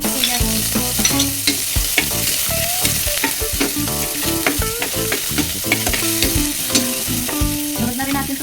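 Onions sizzle and fry in a pan for pork rib kaldereta, a steady close crackle broken by frequent clinks and scrapes of a utensil stirring, with no talking.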